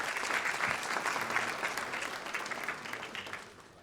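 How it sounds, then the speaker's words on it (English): Audience applause fills a banquet hall at an athletics hall of fame dinner, a dense steady clapping that stays loud for several seconds before starting to taper off near the end. "Give yourselves and everyone else here a little round of applause"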